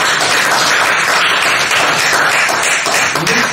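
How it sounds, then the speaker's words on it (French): Audience applause after a talk, a steady dense wash of clapping filling the room without pause, loud and close throughout. "Donc on applaudit très fort"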